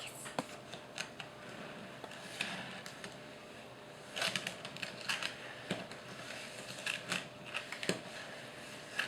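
Sugar being mixed into an ice cream mixture, with irregular close scraping and tapping clicks of a utensil against a bowl, fairly quiet.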